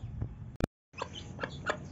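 A hen and her chick cluck in a pet chicken coop at feeding time, a few soft, close clucks with a short silent gap partway through.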